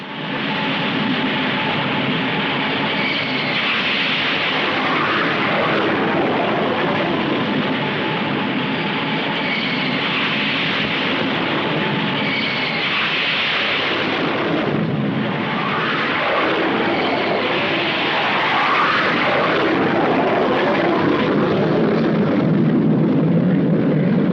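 A loud, continuous roar of military aircraft engines aboard a US Navy carrier, fighters and attack planes, fills the whole stretch, swelling and shifting slightly, with no voices.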